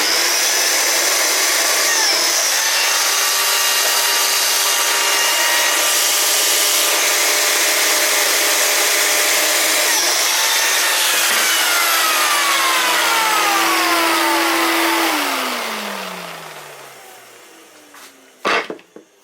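Biscuit jointer cutting slots into old wooden drawer fronts for a toolbox, a loud continuous high whine and rasp that holds steady for about fifteen seconds, then spins down and fades, followed by a few knocks.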